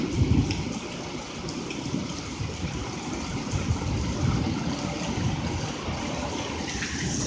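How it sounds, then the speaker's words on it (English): Steady, dense pattering of small hail falling on surfaces nearby during a severe storm, a continuous hiss with scattered sharper ticks throughout. "we are getting hail now."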